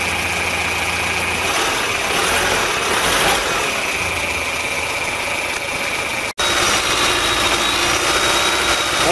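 The engine of a 1988 Mazda van runs at a loud, steady idle throughout, broken by one abrupt brief dropout before the same drone resumes.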